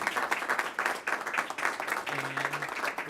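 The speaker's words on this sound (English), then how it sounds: "So let's give them a round of applause." A round of applause at a school board meeting for band students, with steady clapping from a small audience in a room and faint voices underneath.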